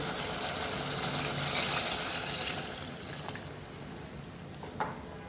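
Water pours into a pot of pigeon meat and potato curry with a gurgling splash over a soft simmering sizzle, fading slightly toward the end, with a couple of light clinks and no speech.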